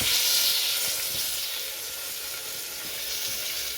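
Onions sizzle in hot oil in a pan for tomato kuzhambu, a steady close hiss that runs without a break.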